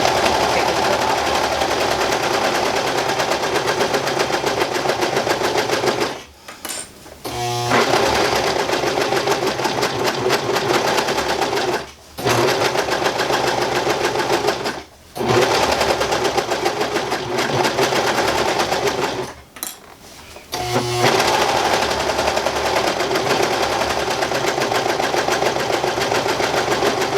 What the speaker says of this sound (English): and when you serge, obviously, you want to have a little bit trimmed off